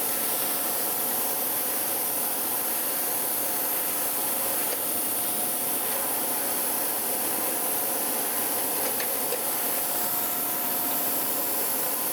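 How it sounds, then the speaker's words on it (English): Steady, continuous abrasive hiss of a grinding wheel being dressed on a surface grinder in a metal shop, an unbroken even rasping roar without pauses, fairly loud and close, with no voices. "Dress that wheel off."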